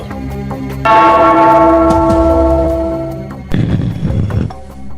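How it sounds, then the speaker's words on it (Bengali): A bell rung in a comedic Bengali cartoon scene gives a loud, sustained ringing tone with layered harmonics that slowly decays, followed by a burst of noisy commotion near the end. "ওই ঘন্টাটা বাজাও, বাজাও।"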